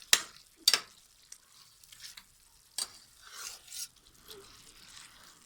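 Chicken makhani masala is stirred while it fries in butter, giving a few sharp scrapes of a spoon against the pan and soft, intermittent sizzling at close range.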